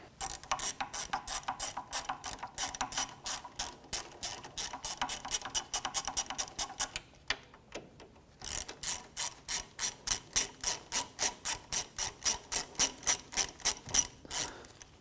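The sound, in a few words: ratchet loosening bolts on Acura MDX wheel hub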